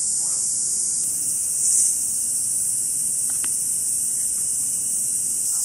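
Cicadas drone in a steady, high, continuous buzz throughout, moderately loud and unbroken, with a brief faint chime partway through and no talk.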